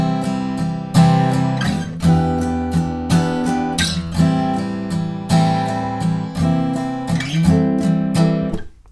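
An acoustic guitar strums chorus chords, steady, loud and close strokes in an even repeating pattern of roughly one accented strum per second, with no voices.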